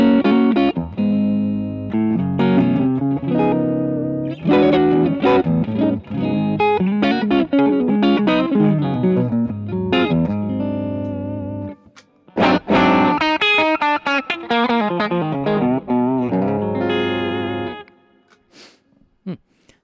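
Electric guitar through a Boss GT-1000 on a clean patch with a slight clean boost, played in strummed chords and picked notes that break up a little when hit harder, with a brief pause mid-phrase and a fading final ring.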